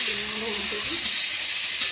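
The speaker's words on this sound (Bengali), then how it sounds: "কড়াতে হচ্ছে বেগুন ভাজা, তেলগুলো উল্টাতে হবে" Eggplant fries in oil in a wok, a constant bright sizzle close by, with a faint voice murmuring underneath.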